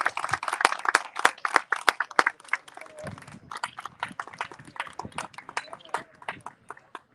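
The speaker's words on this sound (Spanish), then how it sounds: "Un fuerte aplauso." Applause and cheering at a Police Gazette ceremony honoring Evin Brito in Maunabo, Puerto Rico: dense rapid clapping with sharp individual claps throughout, mixed with voices and shouts from the crowd.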